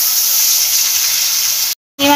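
Prawns sizzle loudly in hot oil in a wok, a bright, steady frying hiss that cuts out briefly before resuming.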